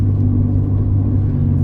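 A 2008 NS Pajero with a 3.8 litre petrol engine cruising onto a freeway, heard from inside as a steady, loud low engine and road rumble with no talking.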